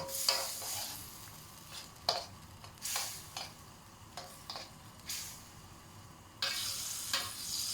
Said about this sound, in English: of Shaohsing rice wine. Really good stir.